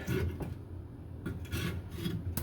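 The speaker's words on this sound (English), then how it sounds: "With a long screwdriver, just start picking out the buildup." A long screwdriver scrapes and picks buildup out of a sink drain tailpiece, giving close, steady rasping and grinding strokes in short bursts, with no talk.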